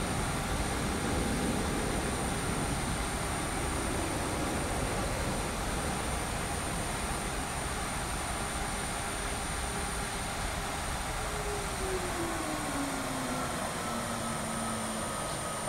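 Airbus A321neo airliner in simulated flight in Microsoft Flight Simulator 2020, a steady loud broadband engine and airflow drone with a faint high whine, unbroken and without talk.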